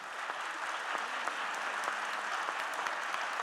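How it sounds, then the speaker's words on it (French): Steady, dense audience applause fills a festival hall, close and even throughout with individual claps ticking through the wash and no voices. "vous pouvez l'applaudir"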